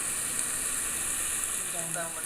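Masala-coated kingfish fries in a pan with ghee and olive oil, giving a steady, close sizzle and crackle with a brief bubbling flare near the end.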